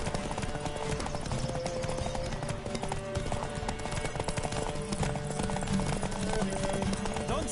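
Galloping horse hooves from The Witcher video game pound in a steady, rapid clip-clop rhythm throughout, loud and close, over a dense bed of game music and ambience.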